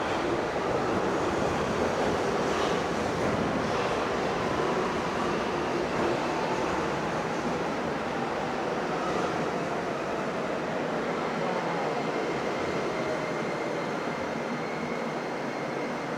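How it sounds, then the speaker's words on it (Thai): A Beijing subway Line 1 train arrives at the station with a steady, loud rushing roar that holds for the whole stretch, with no voices. "นี่รถไฟใต้ดินมาแล้วค่ะ"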